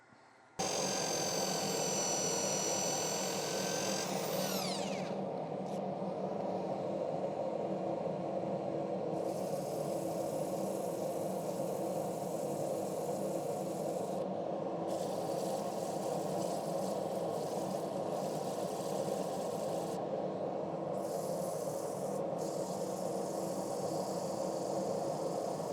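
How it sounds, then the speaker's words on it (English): Wood lathe spinning a turned piece with a steady loud motor hum while sandpaper is pressed against the wood in several bursts of hissing friction, a high whine winding down near the start. "Let's sand it up."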